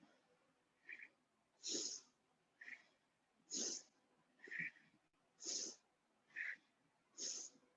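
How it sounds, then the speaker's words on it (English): Rapid rhythmic nasal breathing during a yoga breath exercise, about eight sharp sniffing exhales and inhales alternating in an even quick cycle, close and clear against a quiet background. "Breathing through the nose."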